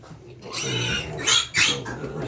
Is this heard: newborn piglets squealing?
yes